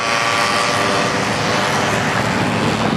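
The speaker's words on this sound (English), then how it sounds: "Going down Wealthy Street, ran into a moped gang." Several mopeds ride past along Wealthy Street, a loud, steady buzzing engine drone filling the whole stretch with no pauses or voices.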